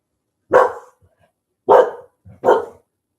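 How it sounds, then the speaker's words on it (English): A dog barks near an open window, three loud, close barks with short pauses between them in otherwise quiet surroundings. "So the windows open and he's barking like crazy now."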